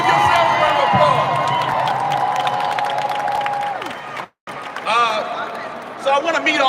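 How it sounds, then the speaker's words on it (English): A gathering of crime victims and survivors at a live event applauds and cheers. The crowd's clapping is loud and dense under a sustained musical tone, then cuts off briefly and comes back with voices and more clapping. "Give yourselves a round of applause."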